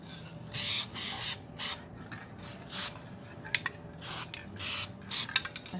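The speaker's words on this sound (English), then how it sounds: "So we might have to spray some more in here" Spray can bursts on plastic 3-inch garden pots, about eight short hissing sprays of varying length in an uneven rhythm, close and fairly loud with quiet gaps between.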